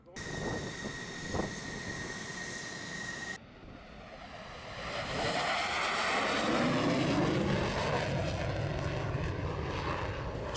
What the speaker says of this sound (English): Mga F-16 fighter jets ng Israel tuloy ang pagsasanay upang laging handa sa anumang labanan